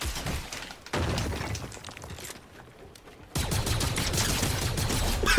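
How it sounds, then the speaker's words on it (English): Distant gunfire crackles in a Fortnite match, with bursts of rapid shots that come and go over a background hiss, loud in stretches and dropping away in between, with no talking. "Oh, we got some gunshots off in the distance."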